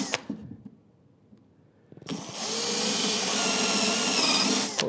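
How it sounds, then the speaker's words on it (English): A drill bores a 3/16 hole through the first layer of plywood on a workbench drawer; a few light knocks come first, then a steady, close, loud whirring grind. "3/16 hole here. Right on that crosshair. Through the first layer of the plywood."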